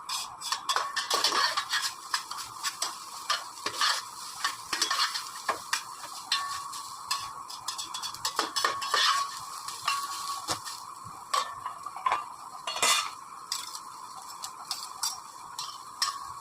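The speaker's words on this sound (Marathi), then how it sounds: "हे बघा, आता हे चांगलं परतायचं आणि झाकण ठेवायचं." Chopped taro leaves sauté in a pan with a soft continuous sizzle, broken throughout by quick, irregular clicks and scrapes of a spoon stirring against the metal, close by and without talk.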